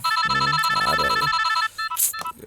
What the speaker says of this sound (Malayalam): രാത്രി മുഴുവൻ ബെല്ലടിച്ചോണ്ടിരിക്കുന്നു. ഒന്ന് ഫോൺ എടുക്കടാ.